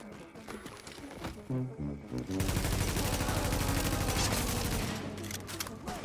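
Heavy suppressive gunfire erupts in The Division video game, a dense continuous fusillade of rapid automatic shots that builds after a quieter opening with brief tonal sounds, staying loud and sustained to the end.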